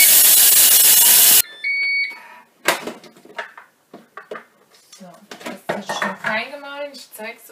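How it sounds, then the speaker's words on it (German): Thermomix TM31 grinding cheese at speed 10: a loud, dense roar for about a second and a half that stops abruptly, followed by a few electronic beeps and voices talking. "das wird jetzt sehr laut. Und zwar eine Minute auf Stufe 10 das Ganze mahlen."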